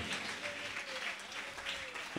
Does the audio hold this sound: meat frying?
no